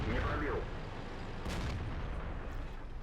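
An E100 tank fires HEAT rounds in World of Tanks, with a couple of sharp cannon blasts about a second apart over a rumbling battle background.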